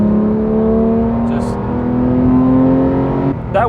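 Porsche 911 GT3 (2018) fitted with a SOUL exhaust, its engine holding a steady high rev near 5,500 RPM, loud and close, with a brief shift and a change in tone near the end.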